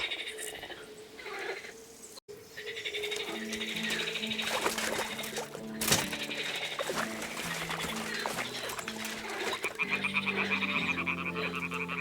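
Toads croak steadily around a nest in Kingdom Come: Deliverance II, a dense chorus of low, pulsing calls overlapping continuously over a soft ambient backdrop.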